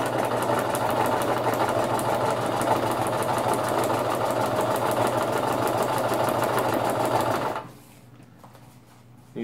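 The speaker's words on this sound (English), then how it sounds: "You just sew a little, roll a little." A sewing machine rolling a hem on a DIY pack cover runs in a steady fast mechanical chatter for several seconds, then stops abruptly, leaving near silence.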